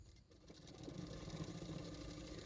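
A sewing machine runs a fitting seam on a 40-inch double katori blouse, giving a quiet, steady whirring motor drone that builds briefly and then holds, with no speech.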